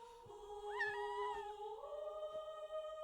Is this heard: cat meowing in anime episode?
yes